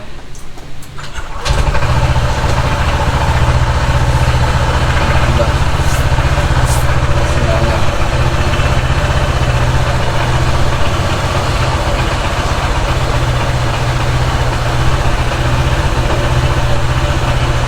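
A Honda ADV 160 scooter engine, freshly engine-flushed, starts up and then idles evenly and fairly quietly, a steady putter continuing unchanged to the end.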